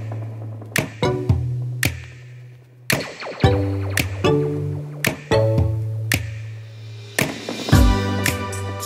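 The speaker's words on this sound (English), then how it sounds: "I am chopping up baby carrots right now." A knife chops baby carrots on a cutting board in a home kitchen, with about a dozen sharp, close knocks in an irregular rhythm over a low steady hum.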